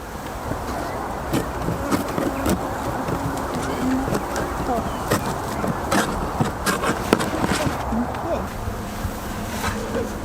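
Honey bees swarm around a small colony's beehive during hive maintenance, giving a steady, dense buzzing hum that fills the whole stretch with small irregular swells.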